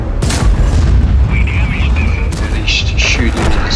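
A tank cannon fires in World of Tanks, a T95 heavy tank battle, with a heavy boom over constant loud rumbling engine and battle noise and a few metallic clanks.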